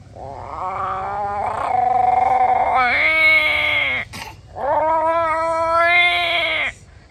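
A human voice mimics a cat meowing with two long, drawn-out wailing meows that rise and waver in pitch, heard close and alone.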